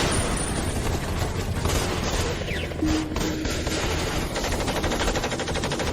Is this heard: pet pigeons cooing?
no